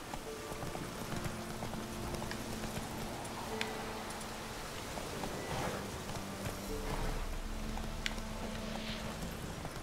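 Galloping and trotting horse hooves in The Witcher 3: a continuous, fairly loud clip-clop rhythm over ambient game sound, with faint tonal music underneath.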